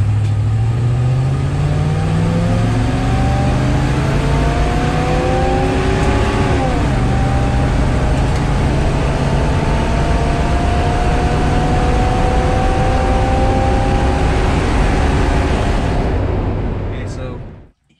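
Rebuilt engine pulls a car from a dead stop, revs climbing steadily through several gears with rising and falling harmonic sweeps, loud and close inside the cabin, cutting off near the end.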